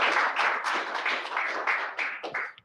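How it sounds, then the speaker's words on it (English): Audience applause for a presenter at a Svelte Society tech meetup in London, a dense steady wash of clapping from a room of people that thins and fades out near the end. "everyone give Jane a big round of applause"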